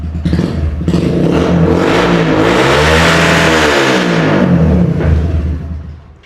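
Suzuki GSX 125 motorcycle fitted with an aftermarket exhaust revs hard from a thumping idle, the single-cylinder note climbing and falling through a sustained, loud, close rise over about six seconds with no talk.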